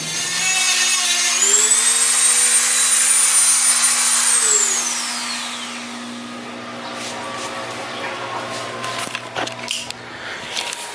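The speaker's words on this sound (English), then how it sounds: "This is my first time really doing this type of cut or real sand with the Dremel." Dremel rotary tool cutting and sanding the metal of a Prinsu roof rack on a 2018 Toyota Tacoma, a loud close whine whose pitch rises and falls for about five seconds, then quieter scraping and clicks.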